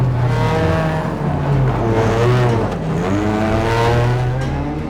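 Rally car cornering hard on a racetrack with a hydraulic handbrake, engine revving loudly and close, pitch rising and falling through the turn with a touch of tire noise, no voices.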